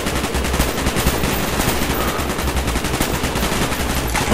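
Sustained automatic gunfire in the Call of Duty: Black Ops campaign, a loud, dense stream of rapid shots that continues without pause for several seconds.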